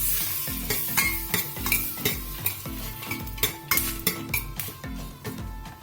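Spices frying in butter are stirred with a utensil scraping and clinking against the pan in repeated strokes, over a constant close sizzle, with no talking.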